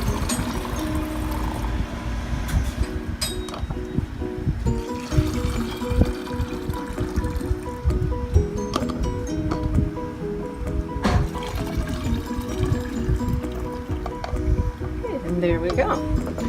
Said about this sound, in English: transfer my simple syrup here to another container just to make it a little easier to pour in